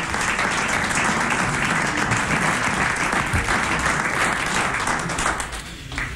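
A studio audience applauds at a French comedy panel show, with sustained, dense clapping running strongly throughout and thinning slightly just before the end.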